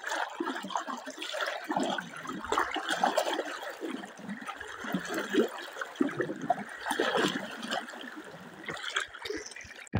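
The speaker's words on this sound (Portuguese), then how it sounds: "tá caindo água bem em cima" Water pours steadily from above beside a river, a continuous splashing rush that stays loud and close throughout with no voices.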